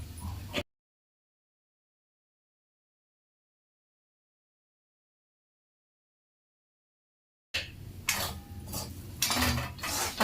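Metal pan and utensils clatter and scrape while potatoes fry with turmeric and spices in a home kitchen, heard in a short burst at the start and again as busy, close clinking at the end after a long silent gap.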